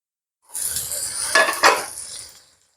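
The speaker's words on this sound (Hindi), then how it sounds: "अब हमने जो सब्जियां फ्राई की थी एक एक करके सब इसमें शामिल कर देनी। सबसे पहले गाजर" Carrots tipped into a hot pan of frying chicken fried rice, giving a burst of sizzling with two sharp clinks of utensil against the pan, fading after a couple of seconds.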